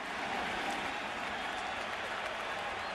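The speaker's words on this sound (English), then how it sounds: "This Shea crowd is trying to climb back into the action." A Shea Stadium baseball crowd at a 2000 World Series game roars and applauds in a dense, continuous wash of cheering that holds steady throughout.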